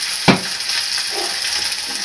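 Crumbled morcilla black pudding frying in a pan gives a steady close sizzle, opening with a brief clatter or crackle as it goes in, no talking.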